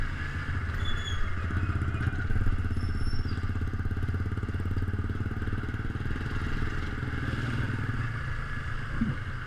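A Cafe Racer 152 motorcycle engine labours steadily up a steep uphill road, a continuous close drone with a low rumble and a faint rattling clatter, and no break across the whole stretch.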